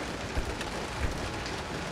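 Rain falls steadily in the Resident Evil 0 video game, a continuous even hiss with a couple of soft low thumps, and no voices.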